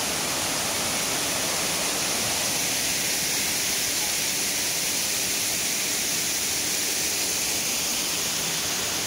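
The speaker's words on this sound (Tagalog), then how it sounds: "So ayan yung mga waterfalls na bumabagsak galing dun sa taas." Waterfalls pouring down from above in a city park in Taipei, a constant dense rushing hiss of falling water that stays loud and even throughout with no pauses.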